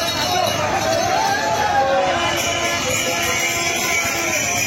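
Dense hubbub of a huge crowd of pilgrims on the Tarakeswar yatra at the Baidyabati rail gate, steady babble of many voices and movement filling the whole stretch without pause.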